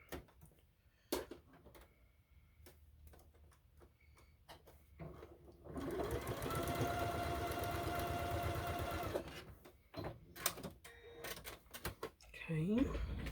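A sewing machine stitches a quilt block in one sustained run of fast, close stitching in the middle, framed by quieter handling sounds and a person talking before and after.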